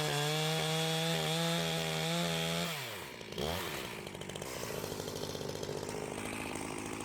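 A gas chainsaw idles with a steady pulsing drone, then revs up hard and bites into wood, holding a loud, rough, fluctuating cutting snarl close by.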